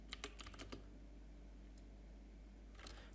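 Keys clatter on a computer keyboard during a quick typing burst, then a pause and another short flurry, all faint and close with no voice.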